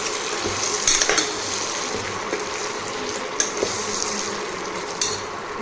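Tempered vegetables stir-fry in a pan with a steady sizzle, punctuated by clanking strokes of a spoon against the pan as they are stirred.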